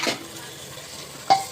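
Ginger garlic paste frying with spices in a pan for beef biryani, a quiet steady sizzle broken by two close scraping stirs, one at the start and one near the end.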